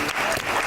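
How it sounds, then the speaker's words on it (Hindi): A short burst of steady, dense applause from a studio audience cheering a contestant on a television show, loud and continuous with no gaps. "बहुत सारी तालियां रांझा के लिए"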